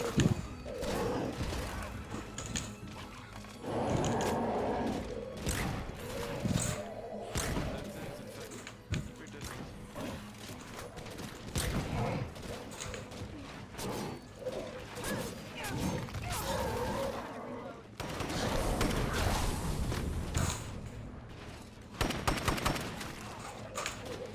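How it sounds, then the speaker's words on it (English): Airstrike explosions and gunfire in the zombie survival game State of Decay 2, a chaotic run of heavy blasts, crashes and rapid shots at close range, with game voices talking over parts of it. "That's one more airstrike from our pal Cleo."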